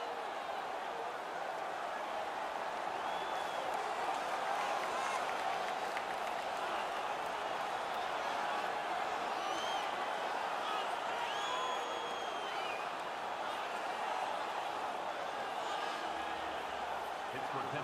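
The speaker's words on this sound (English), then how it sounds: "The crowd is all over them right now." Hockey arena crowd in NHL 19 roaring steadily through a Stanley Cup Final game between Nashville and Pittsburgh, a loud continuous wash of cheering with scattered whistles and shouts, commentary voices running over it.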